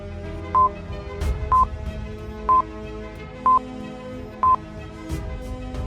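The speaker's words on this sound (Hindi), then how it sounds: "पूरी रिंगटोन जाने के बाद भी आलिया कॉल रिसीव नहीं करती है" A phone's ringback tone sounds in five evenly spaced short beeps about a second apart, clear and moderately loud with no voices.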